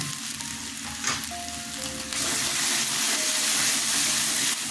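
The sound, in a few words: spice masala frying in pan for aloo papad dalna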